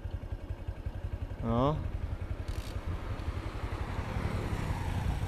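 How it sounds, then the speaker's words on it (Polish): Motorcycle without an electric starter, kick-started and idling with a rapid steady putter throughout, close and fairly quiet, with a brief voice partway through. "Motor nie ma elektrycznego startera, więc trzeba go nóżką odpalić"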